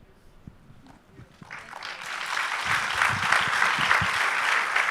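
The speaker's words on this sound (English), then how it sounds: "Another round of applause for Eduardo." Near-silence gives way to a crowd's applause at a film event with the director, swelling from scattered claps into a loud, sustained, even roar of many hands that lasts to the end.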